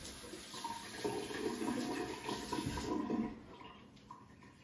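Tap water running into a sink while hands are washed before making slime, a steady rushing flow that swells for a few seconds and then tapers off, close by with no talk.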